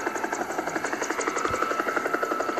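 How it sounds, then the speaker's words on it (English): Steady rhythmic chopping of a helicopter's rotor blades in a Roblox game, a fast regular thump with a mechanical whine, fairly close and continuous with no voices. "I can hear. Oh, helicopter! Helicopter!"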